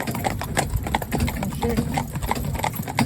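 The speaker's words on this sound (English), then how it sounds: "So they all know what trot on means, and they're going." A team of four-in-hand horses trots along a road, their hooves clip-clopping in a steady, fairly close rhythm, with a voice speaking briefly over them.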